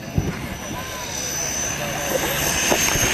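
Paul Stender's jet-engine powered porta potty on a go-kart frame passes at the 2011 Tyndall AFB airshow, its steady roaring jet whine building in the distance beneath an announcer's commentary.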